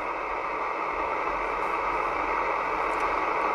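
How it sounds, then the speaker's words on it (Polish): Steady CB radio static hiss with the noise filters switched off, a flat, continuous hiss at moderate level with no voices or breaks. "Zdecydowanie mniej szumi to radio, nawet przy wyłączonych filtrach, niż poprzedni Alan 199."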